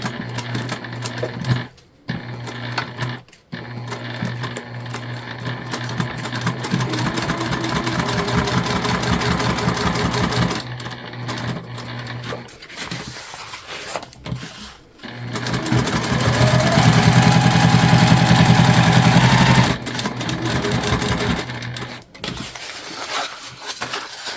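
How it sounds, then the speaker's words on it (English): A sewing machine back stitches a bag pocket with steady mechanical whirring in long runs, broken by short pauses and a brief stop, loud and close, with no talking over it. "Again, back stitching."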